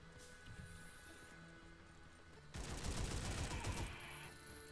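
Gunfire in the video game A.W.O.L erupts halfway through as a dense, loud burst of rapid automatic shots lasting over a second, then gives way to steadier game ambience.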